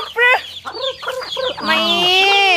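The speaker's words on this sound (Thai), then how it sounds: "ให้อาหารไก่ก่อนที่จะไปกินข้าวกัน" Chickens cluck and squawk at close range while being fed, with a run of short clucks followed by a longer, louder drawn-out call.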